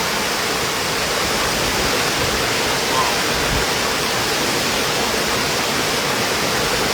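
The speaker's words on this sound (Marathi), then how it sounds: "हा आहे सुंदर फेसळणारा धबधबा" A foaming waterfall plunging from a great height, a loud, constant broadband roar of rushing water filling the whole stretch without letup.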